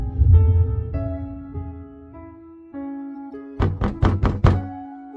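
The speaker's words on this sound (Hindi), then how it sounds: "दरवाजे पर रात में अचानक दस्तक होने लगती है।" Sudden knocking on a door at night in an animated horror story, a rapid series of about five sharp hard knocks over a sustained eerie musical drone, close and loud.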